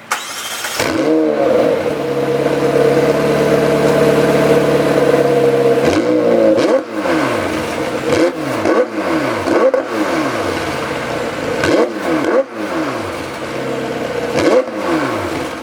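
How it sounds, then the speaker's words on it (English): A 2018 McLaren 720S sports car's center-mounted exhaust revs hard, a long sustained rev followed by a series of sharp, loud blips that fall away quickly each time. "the center mounted exhaust, which sounds amazing."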